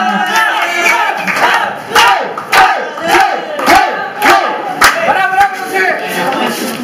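A rap battle crowd at an underground final erupts in loud applause and shouting, with sharp claps and cheers rising and falling in waves, close and continuous.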